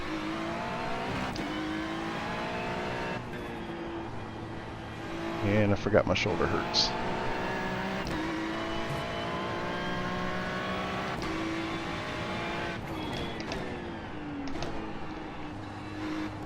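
A GT3 race car in iRacing drones steadily at high revs, its engine note shifting with gear changes under a voice that talks over it throughout.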